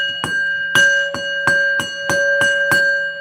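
Ten-bell salute at a WWE Raw wrestling broadcast: clear, ringing strikes of a single bell, about eight struck at a steady, roughly 0.4-second rhythm, each tone sustaining into the next, loud and close with no talking.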